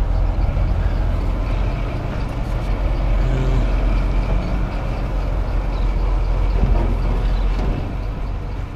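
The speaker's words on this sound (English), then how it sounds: "Here we go for taking the corn head off our trailer." A combine corn head being unloaded off a trailer: a steady, loud low rumble of machinery runs throughout, with faint clanks and shifting mechanical noise underneath and no talking.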